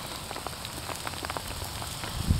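Heavy rain falls outdoors, a dense steady patter of drops striking surfaces nearby, with a soft thump near the end.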